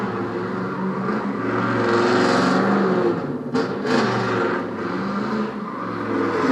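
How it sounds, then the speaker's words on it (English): A car doing burnouts in a parking lot behind a store, heard from some distance as a rising and falling engine roar with whirring revs and tire noise, swelling and easing in waves. "there's some idiot in the parking lot behind the store doing burnouts"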